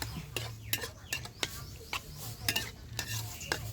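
Pork stir-fries without oil in a hot pan with a soft sizzle, punctuated by repeated sharp scrapes and clinks of a spatula against the pan.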